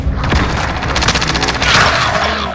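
Gunfire in Call of Duty: Warzone, a rapid burst of automatic shots with booming impacts, loud and close, repeating in a tight rhythm over game noise.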